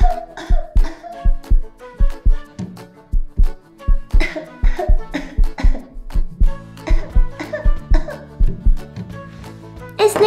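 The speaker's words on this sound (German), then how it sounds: "Einmal husten, bitte." A child playing a doctor game with dolls coughs repeatedly in short, loud, close bursts, about two dozen in a rapid irregular series with no talk.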